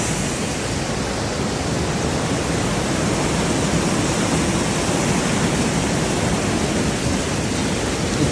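Water rushing down to drive a traditional watermill near the Narchyang waterfalls in Myagdi, Nepal: a loud, constant, close roar of flowing water with no break and no voices.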